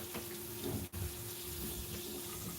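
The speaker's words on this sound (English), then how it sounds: "And just let the water run from the top down, down, down, down." Water poured from the top of a potted houseplant runs and splashes steadily as a continuous broadband wash, close and fairly quiet, with a brief interruption near the middle and no voices.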